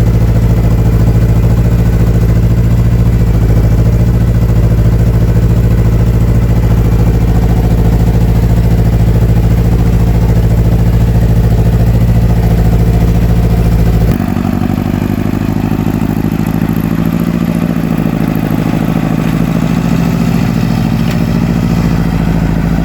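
A modified Case 5455 tractor engine with tampered injection-pump settings idles close by, a steady deep rumbling clatter that shifts to a rougher, lower beat partway through, with no talk over it.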